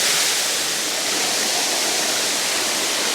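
A waterfall seen from a gully below its top tier makes a loud, constant broadband rush of falling water with no pauses and no voices.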